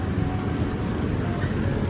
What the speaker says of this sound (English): That's the sound of us docking